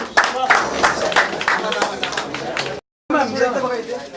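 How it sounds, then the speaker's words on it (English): An audience claps at a magazine cover launch event, a burst of rapid, uneven applause that briefly cuts out and then resumes. "Please give a huge round of applause."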